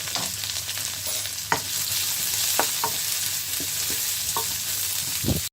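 Sliced large onions and green chillies sizzle in hot oil in a pan for a Sri Lankan dried fish curry. A close, steady frying hiss carries a handful of scattered spatula scrapes and taps, ending with a sharp knock, and there is no speech.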